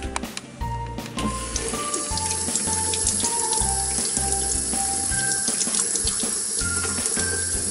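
Kitchen tap water runs steadily while whole saury fish, heads removed, are rinsed under it, a continuous close splashing stream broken by small clinks and shifts in flow, with no talk.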